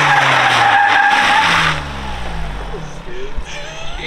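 A Honda track car skids as its weak e-brake, locking only one side, is pulled, with a loud broadband tire scrub for under two seconds that drops to engine rumble and road noise.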